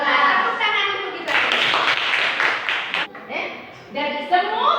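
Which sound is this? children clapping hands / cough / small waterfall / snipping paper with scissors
children clapping hands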